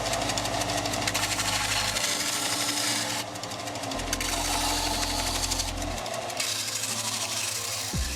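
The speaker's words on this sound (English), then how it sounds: "Now I'm grinding down these edges so that the limbs will be able to move as freely as possible" A rotary grinding tool works down the edges of a Baby Yoda figure, a close, loud, buzzing motor whine that cuts off and starts again in several bursts.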